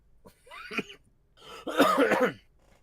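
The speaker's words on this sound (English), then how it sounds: "I'll try not to cough my lungs out." A person coughs twice, close up: a short cough, then a longer, harsher one after a brief pause.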